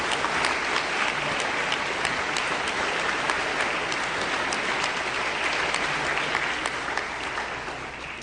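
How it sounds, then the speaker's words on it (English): Sustained audience applause fills an alumni banquet hall, steady and dense for the full stretch, with no voices over it, tapering only slightly at the end. "Let's give them a round of applause."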